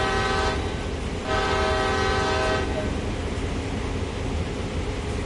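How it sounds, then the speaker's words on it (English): A diesel freight locomotive horn in the Train Sim World game sounds two loud, sustained blasts, a short one and then a longer one, over a steady rumble of the running engine, with no talking. "Sound the horn."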